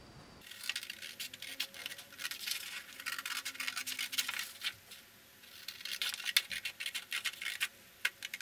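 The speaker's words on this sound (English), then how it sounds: "you want to take your scissors and cut this out" Crisp, repeated snipping and scraping of scissors cutting out a paper envelope liner, close and quiet, with short pauses between runs of cuts and no talking.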